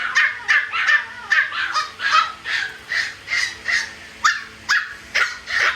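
German Shepherd mix puppy gives a series of repeated high, honking yelps and barks at close range, about a dozen short cries in a steady rhythm, with no talk.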